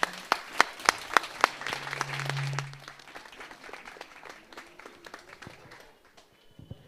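Audience applause at a Geet Ramayan performance at a Ram temple: a few sharp rhythmic claps open into a burst of clapping that quickly fades to scattered, faint claps.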